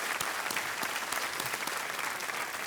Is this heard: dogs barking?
no